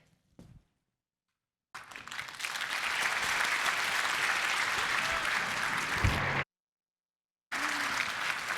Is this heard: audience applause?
yes